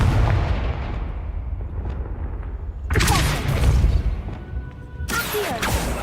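Confringo blasting spells go off in the Hogwarts Legacy video game: two sudden, loud bursts, the second coming a couple of seconds after the first, each breaking over a low rumbling game background and trailing into crackling debris.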